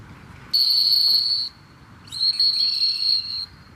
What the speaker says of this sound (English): Real crucial where you blow the whistle.